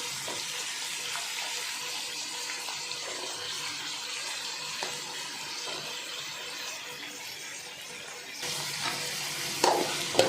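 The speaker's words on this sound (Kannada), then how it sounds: "ಬದನೆಕಾಯಿ ಟೊಮೊಟೊ ಒಟ್ಟಿಗೆ ಫ್ರೈ ಆಗುತ್ತೆ" Brinjal and tomato frying together in a pan for vangi bath, a dense continuous sizzle at steady loudness, with a brief rise and a few scraping clinks near the end.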